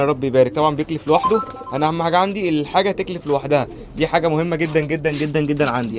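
Domestic pigeons coo steadily in a loft, repeated throaty coos running beneath someone talking at close range throughout.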